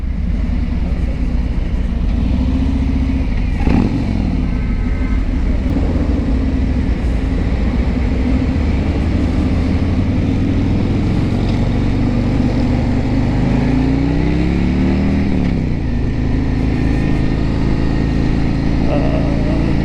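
A 2022 Harley-Davidson Road King Special cruises at speed with a steady, close engine drone and heavy wind rush. A rider talks over it throughout, and engine pitch dips and rises briefly midway.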